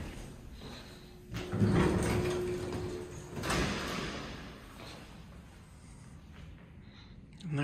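A 1999 Dover traction elevator door at the Science Museum of Minnesota slides shut with a sustained mechanical rumble and hum that swells, then settles as it finishes closing, with a brief voice in the background.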